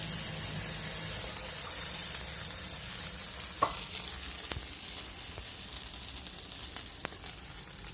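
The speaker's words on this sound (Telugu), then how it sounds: "ఆమ్లెట్ వేస్తున్నాను" Egg for an omelette fries in a pan with a steady, even sizzle, broken by a few light clicks and taps of a utensil, with no voices.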